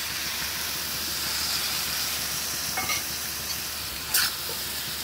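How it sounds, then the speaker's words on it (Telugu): Tamarind pulp going into a hot pan for ivy gourd chutney gives a soft, steady sizzle and hiss, with faint stirring scrapes and one brief brighter hiss near the end. "చింతపండు గుజ్జును వేస్తున్నాను"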